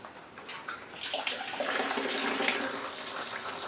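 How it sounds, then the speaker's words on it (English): Hot water pours over whiskey mash grains while sparging into a fermentation bucket, a loud steady rushing splash that builds after a brief start and continues without speech. "We're going to rinse all them grains out."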